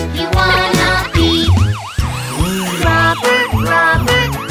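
A police car siren wails in a children's song, repeated rising and falling sweeps layered over a bouncy musical backing, loud and upfront throughout.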